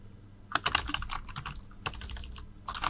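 Python code is typed on a computer keyboard in quick irregular bursts of clicky keystrokes, with short pauses between runs, close and clear with no talk.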